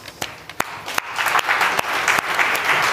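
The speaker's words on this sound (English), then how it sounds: "So here's Ruben, a round of applause." A festival audience applauds a speaker at a talk on tracking emotions, starting with a few scattered, sharp individual claps that quickly swell into full, steady crowd clapping.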